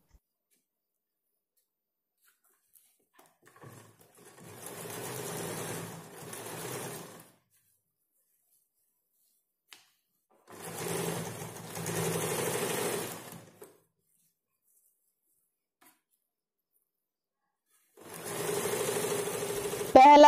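An electric sewing machine stitching a puff sleeve, three separate runs of fast, even mechanical whirring of a few seconds each, close and clear, with quiet pauses in between.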